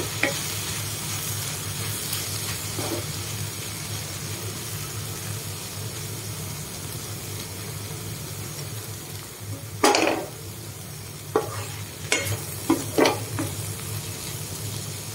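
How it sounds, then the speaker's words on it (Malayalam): Snake gourd stir-fry with ground dried chili sizzles steadily in a pan, a soft continuous frying hiss broken late by a few sharp scraping clatters of a spoon stirring against the metal. "ഉണക്കമുളക് പൊടിച്ചത്, നന്നായിട്ട് ഇളക്കി കൊടുക്കാം."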